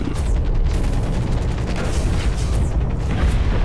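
A rocket blast in the mech shooter Hawken, a loud, continuous rumbling boom with dense crackle filling the whole moment, no voices.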